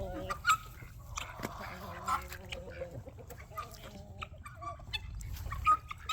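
Chickens and roosters cluck on a farm with muddy ground, several birds calling in short bursts at close to middle distance, while a person talks over them.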